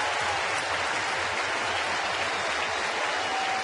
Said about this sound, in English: this crowd in Cincinnati will stand and cheer the 22-year-old Californian